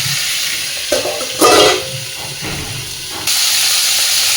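A steady hiss of cauliflower and potatoes frying under a lid, with a brief louder sizzling burst and a faint clink partway through.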